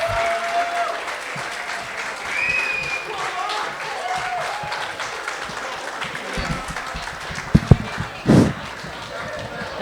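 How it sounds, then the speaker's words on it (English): Sustained applause from a comedy club audience during an on-stage contest, steady crowd clapping with a few loud close claps and brief voices and cheers mixed in. "Can we please have a round of applause?"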